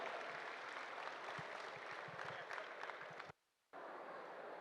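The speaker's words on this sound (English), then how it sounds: "Please have a huge round of applause for CA Girish Ahuja sir." An audience at a chartered accountants' knowledge session applauds with dense, steady clapping that runs several seconds, cuts out abruptly for a moment, then resumes.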